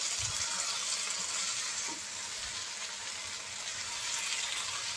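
Okra fries with spices in a pan, a soft, even sizzle that holds steady under a faint hiss for a few seconds, with a couple of low knocks and no voices.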